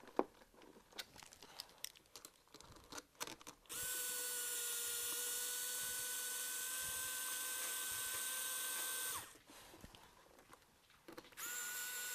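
A power drill drives the supplied screws into a single-gang wall switch plate at the old switch location, whirring loud and steady for about six seconds, then briefly again after a pause, with small handling clicks beforehand.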